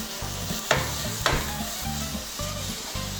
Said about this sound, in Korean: 양파가 이 정도 익었을 때 소스를 크게 한 스푼 정도 넣고 볶아주세요